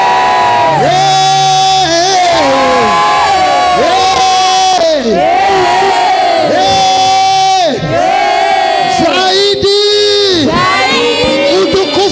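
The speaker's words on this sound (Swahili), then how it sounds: "Pigia Yesu makofi na vigelegele" A church congregation, praising Jesus, erupts in loud, sustained ululation with shouts and whoops filling the space, high trilling voices rising and falling in waves throughout.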